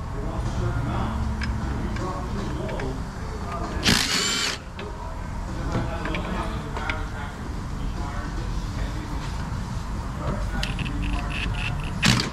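Power tool unbolting fasteners on an LS 5.3 V8 engine, heard as busy workshop noise with a loud burst of impact-tool rattling partway through and shorter whirring bursts later, with a voice talking in the background.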